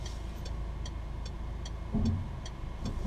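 A red 2008 Peugeot 308 VTi 120 automatic with about 73,900 km gives a steady low road and engine rumble from inside on a test drive, with a regular ticking, probably the indicator, clicking over it.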